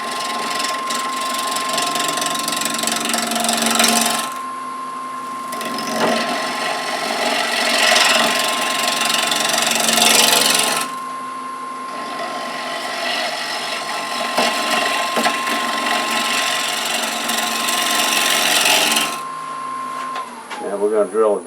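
Crepe myrtle wood spinning on a wood lathe as slow cuts are taken, giving steady scraping and ratcheting tool noise in long bursts broken by short pauses, close and fairly loud.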